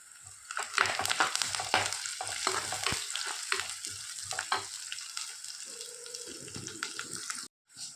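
Ginger and cut chilies fry together in a pan for a Kerala-style saaru, a steady close sizzle broken by scraping stirs and clinks, with running tap water briefly audible before a sudden cutoff near the end.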